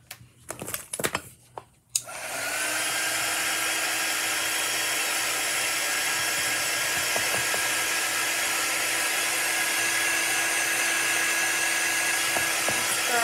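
A hair dryer blasts steadily and closely onto a chalk-stenciled lime slice, switching on after a couple of seconds of clatter and holding a loud, even whine to the end.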